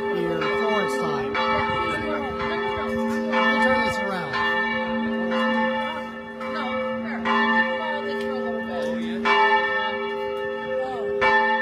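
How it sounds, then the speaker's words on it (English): Church bells of the San Lorenzo Basilica in Florence toll at 7 p.m., ringing in a steady, repeated series of strikes with long, shimmering overtones that fill the whole stretch, loud and open-air. "you can hear the bells of the San Lorenzo Church, the Basilica, tolling in the background at 7 p.m."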